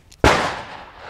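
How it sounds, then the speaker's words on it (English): A single sharp pistol shot, Hornady Critical Defense 115 grain FTX ammunition fired at 10 yards on a range, cracks loudly close by and rings off in a short decaying tail. "I'm going to go ahead and shoot a few rounds with the... at 10 yards with"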